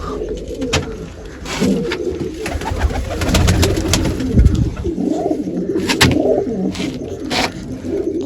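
A domestic pigeon, a Shah Khalal with a forehead mark, coos in low throaty bursts close by, mixed with sharp clicks and scuffing, other birds calling around it in a village loft.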